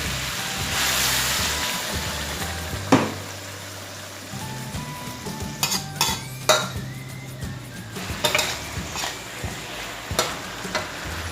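Asparagus and crispy pork stir-fried in a pan with a splash of water, a steady sizzle broken by scraping and clanking spatula strokes, close and moderately loud with no voices.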